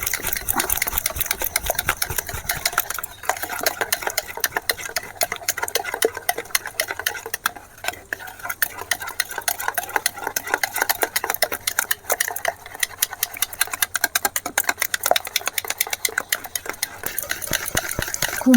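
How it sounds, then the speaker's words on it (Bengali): Eggs beaten with date palm jaggery in a bowl for cake batter, a steady fast rattling whisk or mixer running continuously and fairly loud from start to finish, with no talk. "খেজুর গুড় আর ডিম এবারে আমি ফেটে নেব।"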